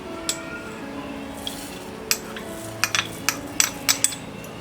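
Whole spices such as fennel and coriander seeds are tipped into a dry pan over a gas flame, making scattered sharp clinks and light metallic taps that come one after another against a quiet background.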